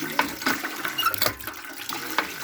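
Water splashes and trickles from a hand-dug backyard well, a faint, uneven pouring with small bursts and no voices.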